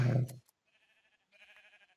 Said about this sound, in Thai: โอ้แถวนี้ก็ยังมีแกะ